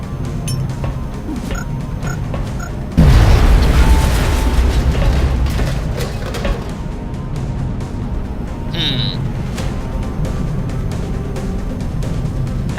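Grenade explosion in XCOM: Enemy Unknown: a sudden loud boom partway through that decays into crackling debris and rumble, followed by quieter game sounds.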